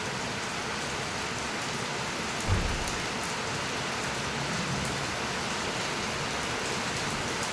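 Steady rain falls on a rainy day, a dense, even hiss of drops on surfaces with a single soft low thump early on, continuous and moderately quiet throughout.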